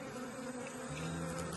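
Bees hum continuously at a honey bee farm in Sumatra, a steady close buzzing drone with no voices.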